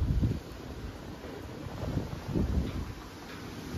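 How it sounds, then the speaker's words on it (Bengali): Strong gusty wind during Cyclone Remal in Barasat roars across the microphone, surging in loud buffeting bursts with steady rushing noise between and no talk. "এই হাওয়া ঝড় আর এই যে আকাশের এই অবস্থা এখন"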